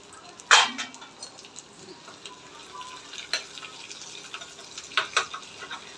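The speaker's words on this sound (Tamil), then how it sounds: "வெங்காயம் வதங்கட்டும்" Soft continuous sizzling from onions and curry leaves frying in a pan, broken by occasional louder clatters and stirring scrapes.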